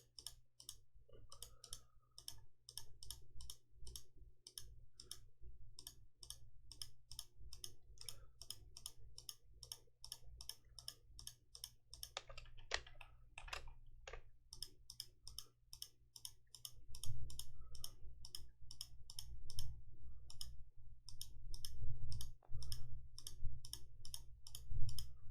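Rapid, steady mouse clicks while selecting faces in Blender on a computer, each click crisp and close, running in long regular bursts with brief pauses over a low hum, no talk.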